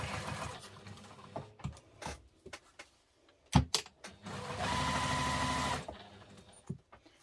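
Sewing machine basting fleece to fabric for a messenger diaper bag, a short steady whir of stitching in a quiet room, preceded by faint handling clicks and taps.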